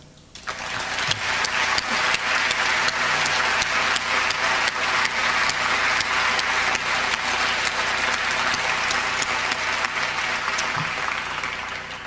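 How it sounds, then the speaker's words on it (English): Audience applause at a conversation event about The Fog of War with Robert McNamara and Errol Morris keeps up steady, dense clapping from a large crowd for about twelve seconds. "So, Bob, we're not going to have many more chances to give you a round of applause, but thanks"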